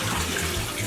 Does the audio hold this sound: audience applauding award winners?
no